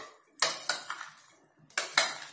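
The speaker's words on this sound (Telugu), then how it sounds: "ఇప్పుడు ఇందులో ఇప్పుడు కొంచెం సాల్ట్ వేసుకుందాం, కొంచెం పసుపు, కొంచెం కారం, బాగా మిక్స్ చేసుకుందాం" Potatoes mixed with salt, turmeric and chili powder in a metal bowl, a few sharp scraping clinks of a spoon against the vessel, close and alone.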